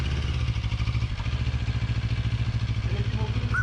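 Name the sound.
CFMOTO MT650 motorcycle engine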